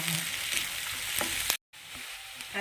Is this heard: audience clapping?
no